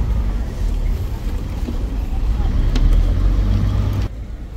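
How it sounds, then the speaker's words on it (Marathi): A Koli fishing boat on the water between Versova and Colaba edging through a narrow gap, with a steady low engine rumble and wind noise throughout, a few faint knocks, and the drone dropping away near the end. "एवढे छोटेसे गॅपमध्ये घुसवलेले आहे बोट"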